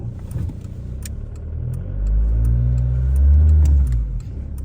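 A 2004 Volkswagen Jetta turbo diesel with a 4-speed automatic revs in neutral. The engine rises from idle into a loud, deep, swelling rev and holds it before easing back, recorded close and on its own.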